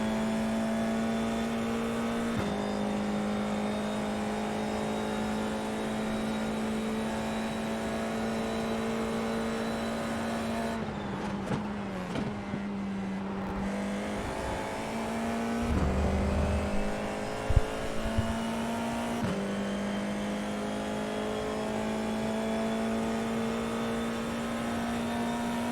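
A Formula 4 race car lapping the Montreal circuit in the iRacing sim, a steady high-pitched engine drone held near constant with shifts and brief revving dips around the middle, no talk.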